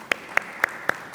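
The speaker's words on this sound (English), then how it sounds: "may you please join me in applauding, and you did spontaneously" Audience at a Citi-NCPA Aadi Anant Festival concert clapping, five sharp, evenly spaced claps heard close and distinct over a quiet background.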